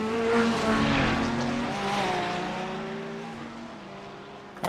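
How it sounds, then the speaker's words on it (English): A race car at the Bathurst 12 Hour braking, its loud engine note sliding steadily down in pitch as it slows, heard close with no talking. "Oh no, he's braking there."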